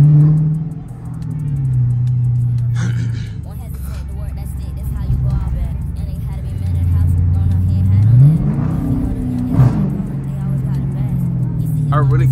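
A Dodge Challenger R/T with its 345 engine in eco mode revs up and down several times, close and loud, with rising and falling engine pitch and some crackling pops while someone talks over it.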